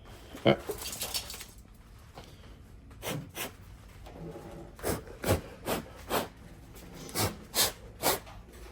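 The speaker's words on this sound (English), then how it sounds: "it's threading because this thing is going in nice until it gets to where you stopped" Metal scraping and grinding bursts as a tap cuts threads into an aluminum pole for a butterfly net extension, with a series of rhythmic rasping strokes, close and fairly loud, and faint background noise between them.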